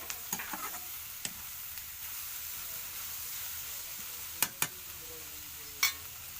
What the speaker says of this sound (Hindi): हमारे प्याज भुंजा थे